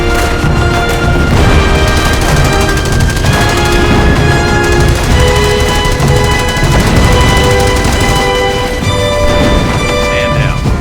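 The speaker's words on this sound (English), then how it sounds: "Use the artillery strike ability to defeat the German attack." Artillery strike explosions in the Company of Heroes strategy game, loud continuous battle din with booms and crashes blended into dense gunfire and game music throughout.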